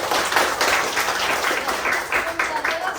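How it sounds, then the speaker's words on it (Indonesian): A school class applauds after prayer, a burst of many small hands clapping fairly close, uneven and lively, with some voices mixed in. "Tepuk tangan untuk kita semua."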